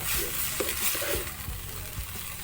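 Chaya leaves stir-fried with oyster sauce in a pan give a steady sizzle, with soft scraping stirs coming through close by and no voices.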